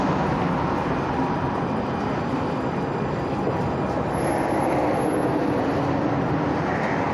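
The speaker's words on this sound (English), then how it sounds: "there's my train right there" A Valley Metro light rail train arrives near Sky Harbor, a steady broadband rumble and rolling roar holding loud and close throughout, with a faint high whine rising partway through and no voices over it.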